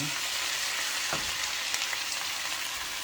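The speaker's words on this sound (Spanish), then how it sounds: "vamos ahora a echar el caldo en donde cocinamos la carne" Beef cooking broth sizzling steadily in a hot pan where shredded beef was cooked, a dense, even, close frying hiss that holds for the whole stretch.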